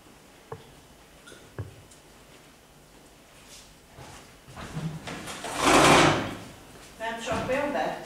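A door is opened in a lecture room: a couple of sharp handle clicks, then a rushing, clattering burst as it swings open, followed by softer rattles, with faint background murmur.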